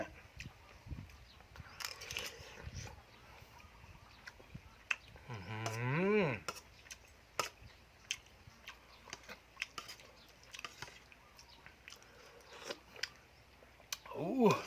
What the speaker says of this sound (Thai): น้อง ควาย ครับ